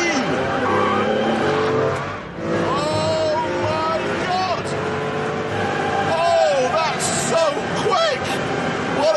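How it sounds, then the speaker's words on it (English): A car brakes hard and turns at speed, tyres squealing in rising and falling whines over a loud steady engine roar, with someone talking excitedly over it throughout. "Hard on the brakes now, turning."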